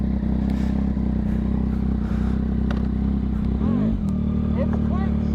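A 2022 Yamaha XSR 900 motorcycle with quick shift up and down, its exhaust a steady low engine drone with a brief rising rev sweep near the end, loud and close.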